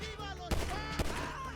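Two sharp gunshots crack a half-second apart over a busy Grand Theft Auto V game soundtrack, with faint background voices.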